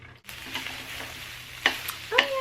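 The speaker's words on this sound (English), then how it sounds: "It's stir frying." Cheesy noodles stir-fry and sizzle in a pan, with a steady hiss and scraping stirring strokes, plus a few sharper spatula clinks toward the end, close by and with no voices.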